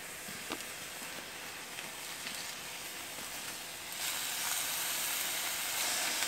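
Large bacon strips sizzle and spit in a small pan over a camping stove, a steady hiss with scattered pops that grows louder partway through, nobody speaking.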